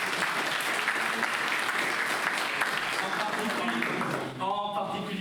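Festival audience applauding steadily and loudly throughout, a dense sustained wash of clapping that thins briefly near the end, with a voice faintly heard under it at the close.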